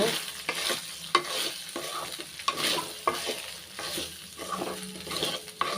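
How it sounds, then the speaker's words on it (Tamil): Cooked rice and small onions stirred in a kadai, a soft sizzle under repeated scraping and knocking of a spoon against the pan in uneven strokes, close up with no voices. "இப்போ வந்து சாதத்தை சேர்த்துக்கிறேன் சாதத்தை சேர்த்த உடனே நல்லா மிக்ஸ் பண்ணி"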